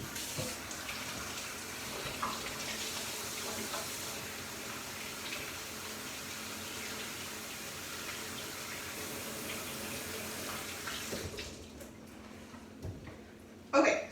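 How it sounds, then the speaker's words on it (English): Water runs steadily from a tap as hands are washed in a kitchen sink, a continuous soft rushing hiss that carries on for most of the stretch before being turned off near the end. "I'm gonna wash my hands and then we'll get started."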